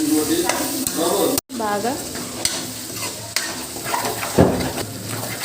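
Marinated prawns frying in hot oil for a prawn curry, stirred with a utensil that scrapes and clinks against the pan; steady loud sizzle with a brief cutoff and a single short spoken word.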